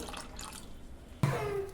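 Tamarind water poured into a paste for pani puri: soft liquid trickles, then a sudden pouring splash that settles into a steady, close stream.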